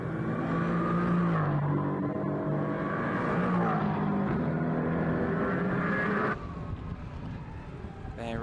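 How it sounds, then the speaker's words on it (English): A Mercedes AMG GT4 race car drives on the Estoril circuit in a winter series race, its engine holding a loud, steady drone that shifts pitch as it accelerates and then drops, with a commentator talking over it. "There is the Schnitzelauern Racing Mercedes AMG GT4 of Hartling"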